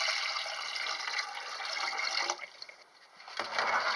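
Water runs steadily into a pot of cooked rice for washing, a close, continuous splashing pour that briefly eases off before resuming.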